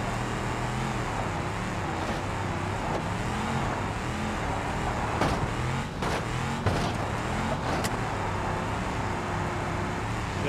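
A heavy truck rolls downhill in BeamNG Drive, its engine droning and rumbling continuously with road noise, a few sharp knocks and clatters breaking in near the middle.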